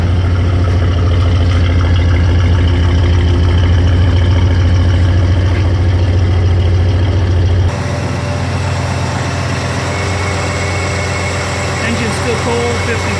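A 1971 Camaro SS with a numbers-matching 402 engine idles after a cold start, a loud, steady low rumble that shifts to a lighter, rougher tone partway through.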